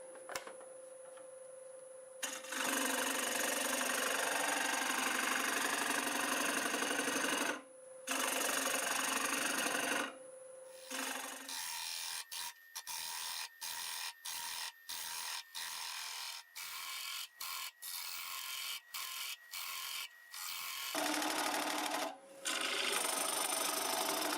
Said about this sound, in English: I'm going to be turning in reverse, and I'm going to just stick with 700 RPM.